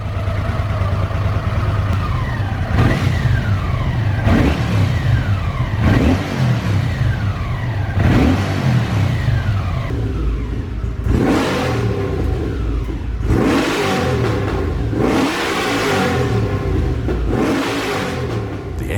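A Honda CX motorcycle engine revs repeatedly, climbing and falling in pitch through several throttle blips, loud and close with no talking.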